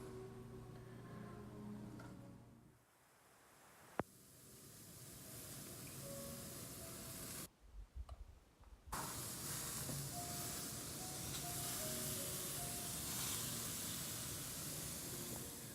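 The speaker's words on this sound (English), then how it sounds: "I'm going to cook the steak in this pan" A steak, already cooked medium rare, warms in a pan with a steady loud sizzle and hiss, briefly interrupted by a short pause and a clatter before the sizzling returns.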